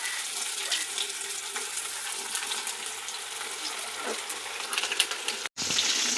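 Breadcrumb-coated oyster mushrooms sizzle in hot oil, a steady close crackle and hiss running throughout with a brief cutout near the end, no voices.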